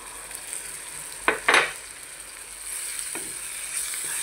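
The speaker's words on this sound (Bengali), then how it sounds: "মশলাটা ভালোভাবে লাল করে পাকিয়ে নিব।" Garam masala and spices fry in oil for chicken bhuna with a steady sizzle, broken by a few quick scraping stirs of a spoon against the pan. The sounds are near and there is no speech.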